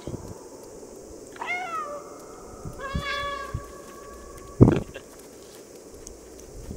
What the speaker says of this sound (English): Press left out to meow.